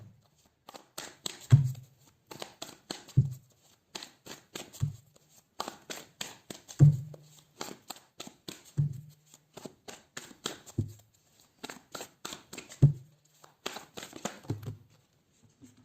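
Tarot cards being shuffled by hand, a rapid riffling flutter that comes in bursts every second or two, each ending in a soft tap as the deck settles, close and moderately loud with no voice.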